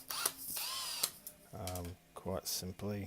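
A drill driver whirs in short bursts as it backs out screws that pass through the motor of an old Epson printer being torn down, followed by someone talking nearby.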